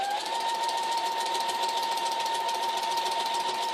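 A sewing machine runs steadily during free motion quilting on newspaper, a continuous fast whirring hum with an even stitching rhythm, close and alone without talk.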